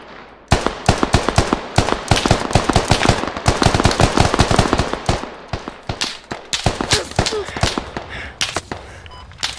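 Rapid, loud automatic gunfire from a Battlefield squad firefight, sharp close bursts packed tightly together, then more spaced single and double shots as the shooting tapers off; voices talk in between.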